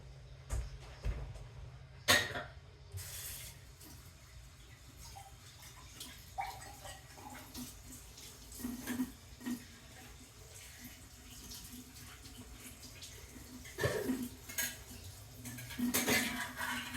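Kitchen sink washing-up with pots and running tap water: clattering pans, clinking utensils and splashing water, fairly quiet and intermittent, no voices.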